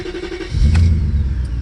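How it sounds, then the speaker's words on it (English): A 26-year-old BMW with an exhaust leak and a rough idle rumbles close by, its engine note jumping into a heavier, raspy low roar partway through and holding there. "can hear the exhaust leak. It also has a pretty rough idle."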